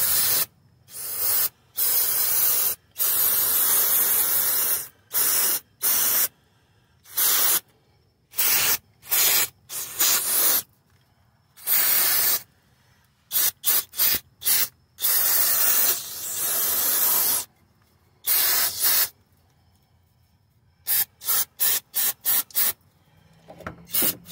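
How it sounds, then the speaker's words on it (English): Brake cleaner hisses from an aerosol can in many short, loud bursts of varying length, close by, while cleaning around the front crankshaft seal area of a 2006-2013 Lexus IS350 or IS250. "Just take some brake cleaner."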